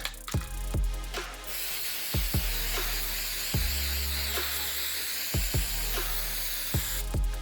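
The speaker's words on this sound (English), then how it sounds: "let's spray this on" Short hissing bursts of Gorilla Glue spray adhesive onto paper, several in a row with brief pauses between them, close and fairly quiet.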